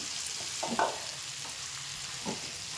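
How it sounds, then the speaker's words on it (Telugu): Red chillies frying in oil with a spice mixture make a soft, continuous sizzle, broken by a couple of brief stirring scrapes in the pan, with no one talking. "మిరపకాయల్ని ఈ ముగ్గుట్లో వేసుకొని పచ్చి పోయేటట్టుగా ఇందులోనే కొద్దిసేపు వేయించాలి"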